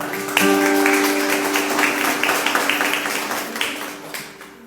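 Congregation at a church service applauds after the Gospel reading, a dense burst of many hands clapping close and loud, with faint sustained tones underneath, gradually thinning out toward the end.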